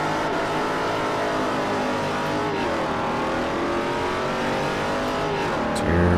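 Class B race cars in Forza Motorsport 4 at Indianapolis drone with a steady, loud engine roar, the pitch sliding as gears shift and the pack runs together, swelling near the end; no speech is audible.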